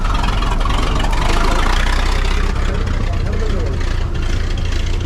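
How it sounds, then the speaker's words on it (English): A vintage fire engine idles in a hill climb paddock, its steady low engine rumble running throughout amid crowd noise and nearby talking. "fire engine."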